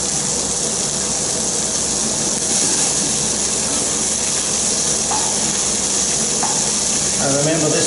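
Meat sears in a hot pan with a loud, steady sizzle and hiss that runs unbroken throughout, with a few faint clinks near the end.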